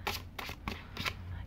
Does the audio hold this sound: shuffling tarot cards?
yes